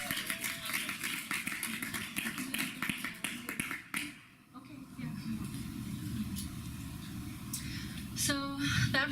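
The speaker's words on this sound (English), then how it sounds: "let's give her a round of applause" Scattered audience clapping that thins out after a few seconds, followed by a murmur of background noise and voices, fairly faint and mixed with other room sounds.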